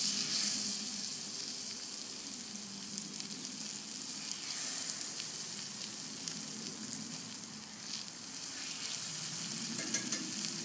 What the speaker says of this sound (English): I'm going to put my tuna burgers on the grill, rather in the skillet